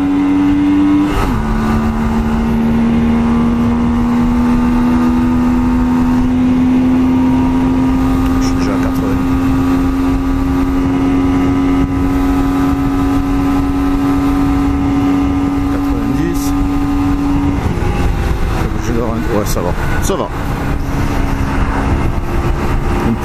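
A Honda Shadow 125 motorcycle engine drones loud and close under acceleration, its steady tone rising slightly before dropping and shifting late on, with constant rushing wind noise throughout.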